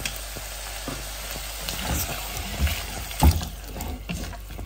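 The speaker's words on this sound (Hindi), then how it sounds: "थोड़ा सा भून लेंगे।" Food fried in a pan with soy sauce and hot sauce, heard as a steady close sizzle with occasional scrapes and knocks of stirring, no talking.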